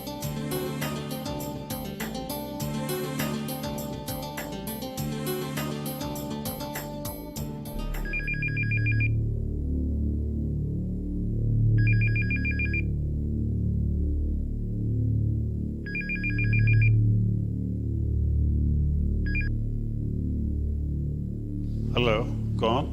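A telephone rings in a home, four repeated bursts of ringing over steady background music and room noise, following a stretch of music at the start.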